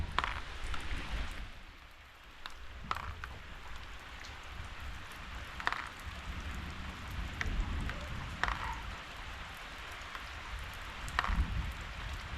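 Steady winter rain falling in a Konkan village, a soft continuous hiss with scattered sharper drips and taps, heard alone at moderate distance.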